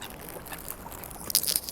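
Ducks quack in a few short, moderately close bursts while being fed alongside swans and seagulls, over a soft outdoor background hum.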